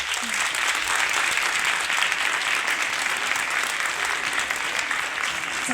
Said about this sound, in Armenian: Նախ ուզում եմ բարձր ծափահարենք